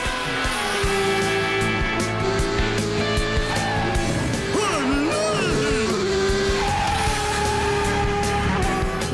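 A cartoon racing car speeds around a track with a continuous engine roar and tire squeals, loud and close, over a busy backdrop of music and effects.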